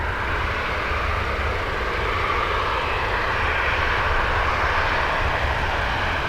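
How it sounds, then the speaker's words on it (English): An ATR turboprop airliner at Dublin Airport makes a loud, steady engine drone with a broad roar and propeller hum that holds constant throughout, with no talk over it. "Little loud ATR on the way."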